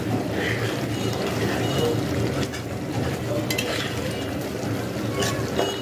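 Egg bhuna with potatoes frying in a pan, a steady close sizzle with faint stirring and scraping, continuous throughout with no talking.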